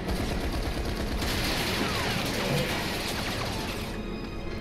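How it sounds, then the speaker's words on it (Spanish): Rapid gunfire clatters against a metal railing in the Final Fantasy VII Remake video game, a dense loud burst of shots and impacts that run for several seconds before thinning out. "No se lo cree ni él que todos los disparos hayan dado en la barandilla."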